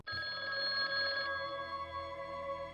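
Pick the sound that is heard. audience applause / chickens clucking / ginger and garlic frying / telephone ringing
telephone ringing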